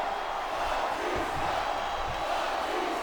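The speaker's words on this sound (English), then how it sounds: "Listen to the crowd" A wrestling arena crowd roars and chants in a dense, continuous wash of many voices, loud and steady throughout.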